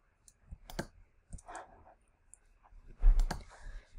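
A computer mouse clicks on a dashboards URL in an Amazon OpenSearch Serverless console, giving a few crisp, close, isolated clicks with quiet gaps between them. No one speaks.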